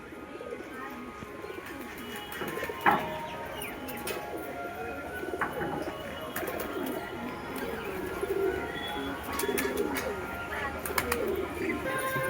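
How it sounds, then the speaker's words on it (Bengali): Male Fulshira pigeons coo in low, repeated throaty calls close by, with steady chirps and background bird noise running through the whole stretch. "ফুলশিরা নর পায়রা"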